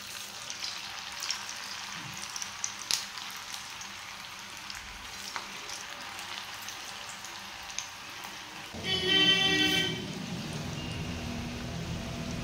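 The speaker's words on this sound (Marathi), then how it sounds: "तेल आपलं व्यवस्थित तापलेलं आहे। आता आपण चकल्या सोडून घेऊ।" Chakli made from poha frying in hot oil, a steady soft crackling sizzle that swells louder and denser toward the end as the dough goes into the pan.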